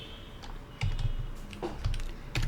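Keys tapped on a computer keyboard while working in TallyPrime accounting software, a handful of close, crisp clicks in irregular short bursts with no speech.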